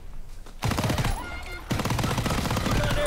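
A Tommy gun fires in the Call of Duty WWII beta, loud rapid automatic bursts crackling almost without pause over dense game noise.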